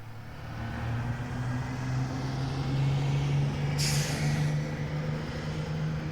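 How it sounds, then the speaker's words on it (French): A bus engine rumbles steadily at close range, then a sharp burst of air-brake hiss cuts in briefly partway through before the low drone carries on alone. "Petit bruit de bus."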